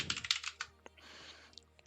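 Quick bursts of typing on a computer keyboard as a prompt is entered, a rapid cluster of close, crisp key clicks followed by softer, sparser taps, with no voices.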